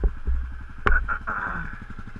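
A 2009 Kawasaki KLR650 single-cylinder dual-sport motorcycle idling nearby with a steady low thump, and a sharp clack partway through as the engine note rises slightly.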